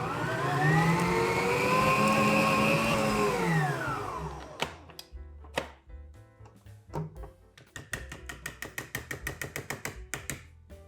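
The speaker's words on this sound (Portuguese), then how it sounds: "Então vamos lá colocar na nossa batedeira. Vamos a bater em velocidade máxima." A stand mixer whirs at maximum speed through banana cake batter, a loud steady motor tone that winds down after about four seconds into a string of sharp, rapid clacks and knocks, with no talking.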